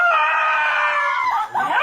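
A dog sustains a strange, drawn-out "oh woo" vocal wail, a high wavering howl-like tone that holds steady before breaking into shorter rising yelps near the end, loud and close with no talking.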